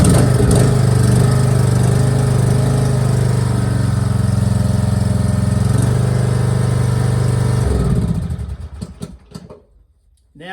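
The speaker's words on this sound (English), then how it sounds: "All right, turn the mower on. It should just start." A lawn mower engine with its throttle set to choke for a cold start runs loud and steady at close range. After several seconds it cuts off and sputters down into silence.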